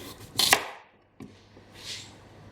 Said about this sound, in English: So for the potatoes, we're going to make them into large chunks